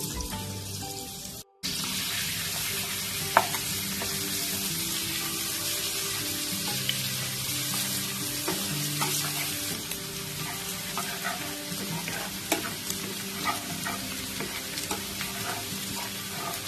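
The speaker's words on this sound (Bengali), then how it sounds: "রসুনটা দেখো হালকা হালকা গোল্ডেন ফ্রাই হয়ে গেছে।" Chopped garlic fries in a generous amount of butter in a pan for butter garlic prawns. A constant close sizzle carries on throughout, broken by occasional utensil clicks and scrapes, with no voices.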